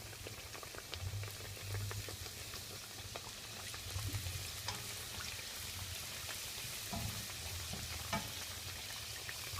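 Pastel dough pastries deep frying in hot oil, two at a time, with a steady dense bubbling sizzle throughout and occasional soft pops, no talking.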